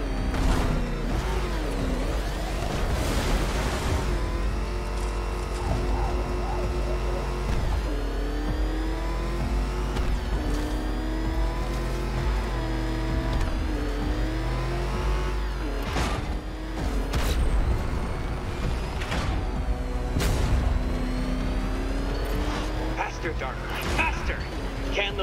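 Batmobile engine in Batman: Arkham Knight revving and racing, a loud throaty drone rising and falling in pitch with repeated surges and booming bursts, continuous over about twenty-five seconds, with a voice speaking over it.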